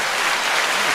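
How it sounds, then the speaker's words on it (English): An audience bursts into dense, sustained applause, a loud continuous wash of many hands clapping together with no gaps. "we got to get a round of applause here"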